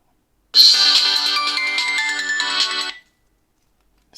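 A Nokia 6710 Navigator phone plays a bright melodic ringtone through its built-in speaker, loud and close for about two and a half seconds before cutting off into silence.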